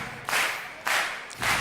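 A crowd claps along in unison at a Red Bull BC One breakdance battle, with three loud, evenly spaced bursts of clapping.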